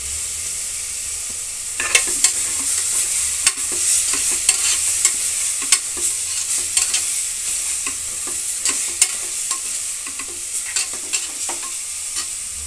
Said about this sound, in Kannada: ನಾವು ರುಬ್ಬಿಟ್ಕೊಂಡಿದ್ದಂತಹ ಮಸಾಲೆಯನ್ನು ಅಂದರೆ ಹಸಿಮೆಣಸಿನಕಾಯಿ, ಕಾಯಿಚೂರು, ಗಸಗಸೆ ರುಬ್ಬಿಟ್ಕೊಂಡಿದ್ದನ್ನು ನಾವು ಹಾಕ್ತಾ ಇದ್ದೀವಿ.